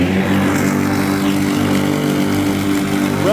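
A Greenworks CRZ-428 zero-turn mower runs with the PTO on high for hose-cleaning the deck, a loud, steady, close motor drone with a constant low hum and no pauses.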